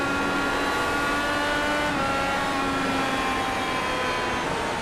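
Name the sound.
race car throttle rolling off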